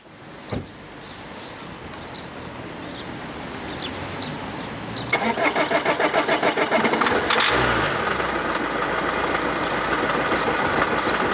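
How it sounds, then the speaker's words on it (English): Diesel car engine cranking after starting spray goes into the air intake: a sharp knock, then a churning crank that catches into a rough, rhythmic running engine, close and loud. "You just spray it in the air intake and hopefully your car will start."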